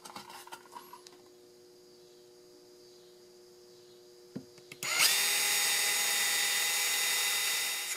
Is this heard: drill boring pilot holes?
yes